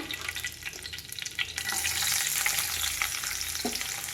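Curry leaves and sliced onion fry in a pan, giving a steady, close sizzle that jumps louder when the onion goes in, with light stirring scrapes over it.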